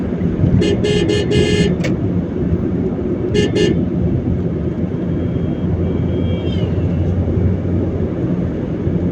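Traffic on a road in Pirojpur, with a steady loud rumble of passing vehicles and two bursts of a vehicle horn honking rapidly, the first longer than the second.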